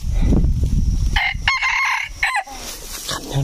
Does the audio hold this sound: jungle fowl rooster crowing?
yes